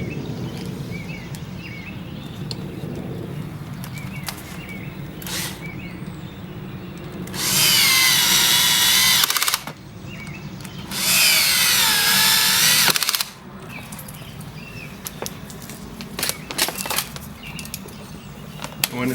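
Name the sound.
power drill drilling holes for boat splash guard bracket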